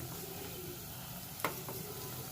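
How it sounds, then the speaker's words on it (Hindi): Tadka tempering for masoor dal sizzles steadily in a hot pan, a continuous crackling fry with a brief sharper pop partway through, close and moderately loud with no talk. "ये देखें, ये हमारा जो तड़का है ऑलमोस्ट रेडी है।"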